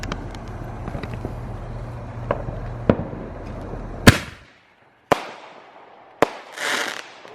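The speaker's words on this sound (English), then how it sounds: "Cameron's doing a double break shot. Another double break shot." Double-break firework shells at a backyard show burst loudly, several sharp cracks spaced a second or so apart, with an engine-like hum running beneath the first few seconds and crackling tails after the bursts.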